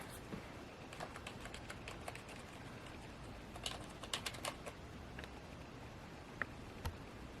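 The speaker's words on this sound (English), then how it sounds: "I'm just typing in gibberish here" Quiet, uneven tapping of keys on a computer keyboard, with scattered clicks in bursts and short pauses, close by and alone.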